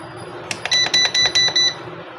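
An automatic egg incubator's alarm gives a quick series of about five sharp electronic beeps in an even rhythm, close and fairly loud, then stops.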